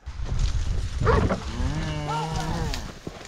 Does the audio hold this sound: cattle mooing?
yes